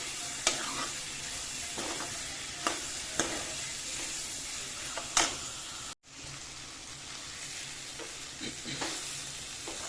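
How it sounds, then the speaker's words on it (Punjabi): Cluster beans fry in ghee for a sabzi, giving a continuous crackling sizzle marked by sharp spatters and stirring scrapes at irregular intervals, with one short dropout midway. "ਗਵਾਰੇ ਦੀਆਂ ਫਲੀਆਂ ਘਿਓ ਪਾ ਕੇ ਕਰਤੀ ਆਪਾਂ ਸਬਜ਼ੀ"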